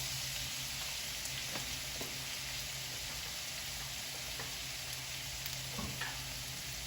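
Pork sizzling in oil in a hot pan, a steady soft frying hiss with occasional small crackles and stirring clicks, no speech.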